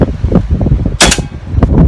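A single sharp air gun shot fires a grain of rice on a very windy day, a loud crack in the middle of gusty wind rumble and handling noise.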